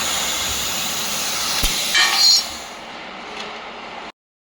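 A 3-in-1 laser cleaning, welding and cutting machine cuts metal with a steady, close hissing rush. A brief crackle flares midway, then the sound stops abruptly.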